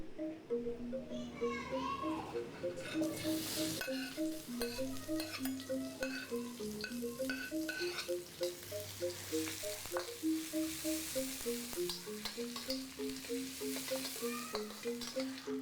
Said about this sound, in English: I'm going to add a coconut oil, add the shallot,